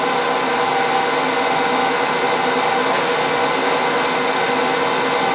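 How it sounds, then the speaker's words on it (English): A flat-edged parting tool cuts into a spinning wood workpiece on a lathe, giving a steady, loud, broadband hiss with no break and nobody speaking. "I'm cutting with parting tool, the edge is flat"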